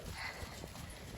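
Horse hooves clip-clopping at a steady trot during a morning riding session, a continuous soft rhythmic beat of hoof falls set against low background noise with no talking.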